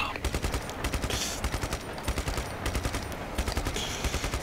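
Rapid bursts of automatic gunfire from the Just Cause 3 video game, loud and close, in repeated clusters of sharp shots with brief gaps between volleys.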